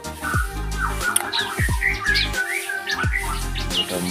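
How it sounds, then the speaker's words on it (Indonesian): Ciblek kristal birds (crystal prinias) in an aviary chirp and squawk busily, several calls overlapping in a steady, fairly loud chatter with no talking. "Pada birahi kayaknya guys burung cibleknya."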